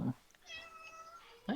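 A house cat gives one drawn-out, fairly faint meow in the middle, with bits of nearby talk at the start and end.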